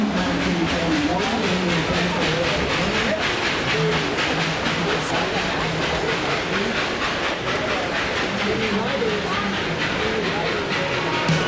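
The Dollywood Express steam train rolls along its rails at Dollywood. A steady clickety-clack of wheels runs under hissing and wind noise, heard from on board throughout, with voices faintly present.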